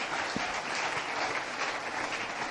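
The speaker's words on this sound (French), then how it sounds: "Acclame très fort pour le roi." A church congregation claps for the king in a dense, loud, sustained round of applause that fills the room evenly from start to finish.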